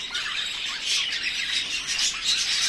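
Young racing pigeon squabs in a loft chirp and squeak in quick, high overlapping calls, a fairly close but soft continuous twittering with no talk.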